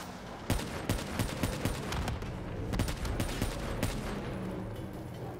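Rapid gunfire in Call of Duty Black Ops 3, a dense fusillade of sharp repeated shots and bursts throughout, loud and continuous.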